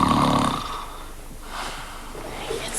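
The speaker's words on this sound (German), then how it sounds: "Doch Schnarchen ist nicht nur ein Problem für die anderen" A person snoring, one loud, rough inhaling snore at the start fading into quieter, raspy breathing close by.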